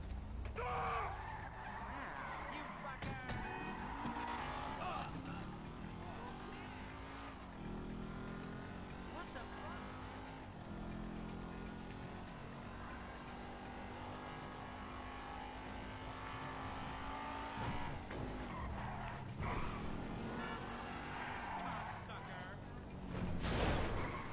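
Car driving in GTA V, a steady engine drone that rises and falls with acceleration under ongoing game sounds, with a player talking over it now and then.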